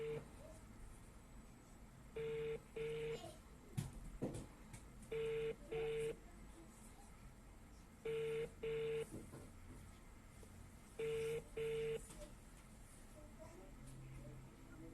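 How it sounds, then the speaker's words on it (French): A telephone number is dialed as a series of paired keypad tones, four evenly spaced double beeps over about fifteen seconds against a quiet room background. "je vais appeler Faye"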